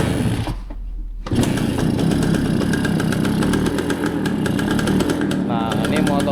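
A Suzuki A100 two-stroke motorcycle, long unused, idles with a loud, buzzy, steady rattle after a brief drop in level near the start, running continuously close by.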